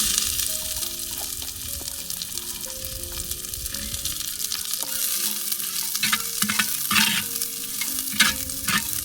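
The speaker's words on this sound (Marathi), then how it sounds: "हा कांदा चांगला भाजून घेते." Chopped onion frying in oil in a pan for a village-style chicken curry, a steady close sizzle throughout with stirring scrapes and clinks, and some faint background music-like tones.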